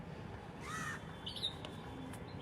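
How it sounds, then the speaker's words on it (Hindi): Crows cawing near an ashram by a river, a couple of harsh calls standing out over a steady hum of ambient noise, with other birds faintly calling in the background. "खूब चिड़ियाँ बोल रही"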